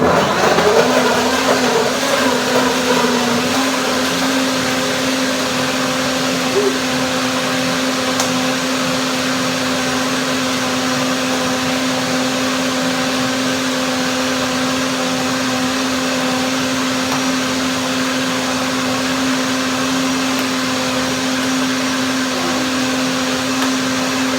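A blender whirs steadily at a constant high speed for over twenty seconds, blending blueberries, strawberries, nectarine, banana and lemon into a fruit pudding, loud and close with no talking.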